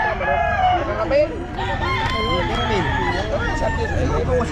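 A rooster crows repeatedly at a busy pet market, its calls overlapping other fowl clucking and a background murmur of people talking.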